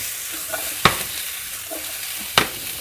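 Vegetables frying in a hot pan for caramelised roast vegetables, a steady close sizzle with a few soft stirs and two sharp clacks of a utensil against the pan, nobody speaking.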